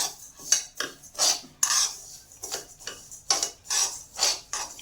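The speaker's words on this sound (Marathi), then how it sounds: "आता त्याला आपण हलवून घेऊया." A spoon scrapes and clinks rhythmically against a wok while stirring a sesame, peanut and cardamom powder mixture, giving regular metallic strokes about twice per second, close and clear.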